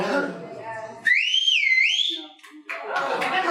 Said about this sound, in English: Has anyone here heard the dreaded whistle?